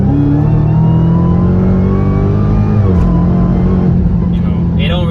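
A 2021 Dodge Charger Hellcat Widebody Redeye on Toyo R888R tires pulls hard in third gear from a 60 mph roll, its supercharged engine a loud, steady, rising drone heard from inside the cabin, with someone talking over it.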